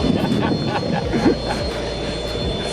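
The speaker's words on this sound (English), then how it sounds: "You got a good challenging first tailwheel landing." A tailwheel airplane lands in a crosswind, its engine droning loud and close from inside the cockpit, steady with slight rises and dips throughout.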